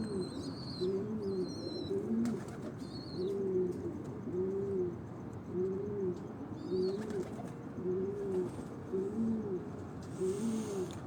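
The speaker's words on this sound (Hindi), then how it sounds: "उनके ये 6 नंबर ब्रीड के ये कबूतर हैं।" Pigeons of the number 6 breed coo in a repeated, rhythmic pattern of low throaty calls, close and clear, with occasional higher chirps and faint clatter in the background.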